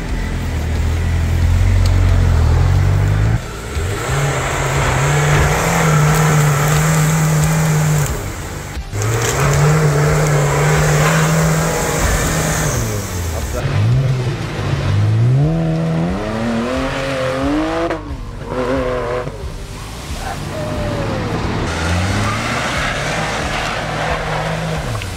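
A new 4x4 rally car on test, its engine revving loudly and close as it climbs, pitch rising and falling through gear changes and throttle blips, with a brief drop in between.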